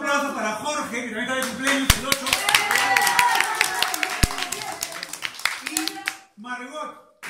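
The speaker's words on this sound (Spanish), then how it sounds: "un aplauso para Jorge, que también está de cumpleaños el 8." A family celebration claps for a man named Jorge on his birthday, with brisk rhythmic hand claps over lively overlapping voices, then a brief pause as talk continues.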